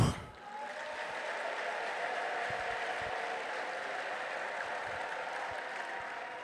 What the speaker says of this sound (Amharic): እስቲ አንድ ጊዜ አጨብጭቡ።